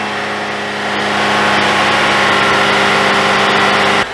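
A car engine is revved and held steady at about 2,500 to 3,500 RPM during a battery charging test, giving a loud, continuous drone close by that drops off sharply at the end.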